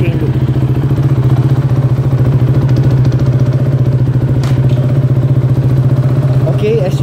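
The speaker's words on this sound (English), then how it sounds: "now we're going to put the bike into first gear so that it's easier for us to apply the chain lube" A motorcycle engine idles steadily in first gear, its low rhythmic throb loud and close throughout, with a light mechanical clatter over it.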